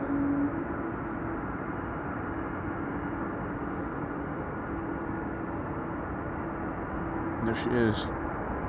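An airliner taxis to its parking stand at Amsterdam Schiphol Airport, giving a steady, distant engine rumble and whine throughout, with a brief voice speaking near the end.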